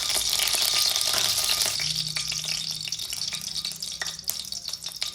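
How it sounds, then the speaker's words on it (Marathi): Ghee heating in a kadhai for carrot halwa gives a steady close sizzle and crackle that fills the clip without pause, with no voices. "कढईत तूप टाकून घ्यायचे।"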